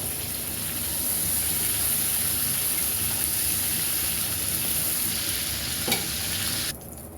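Chopped onion poured into hot oil gives a loud, steady hiss of sizzling that holds for several seconds, with a brief knock near the end before the frying softens slightly.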